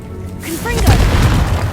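A Confringo fire spell explodes in the Hogwarts Legacy game: a rushing burst swells into a deep, rumbling boom that lingers, with a voice heard in the game.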